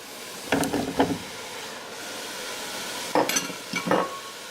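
Zucchini cooks in a pan for a healthy vegan dish with a soft background sizzle, broken by two close bursts of spatula scraping and stirring.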